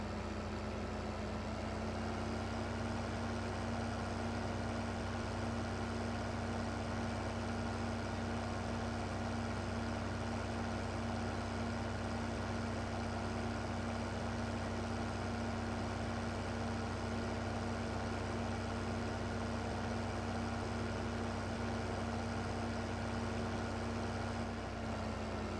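A tractor engine idles in Farming Simulator 15, a steady, unbroken low drone with a constant hum that holds at one level throughout, with no talk over it.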